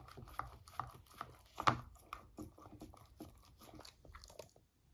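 A beagle eats ice cream up close, making a run of soft crunching bites and wet chewing sounds, irregular and fairly faint.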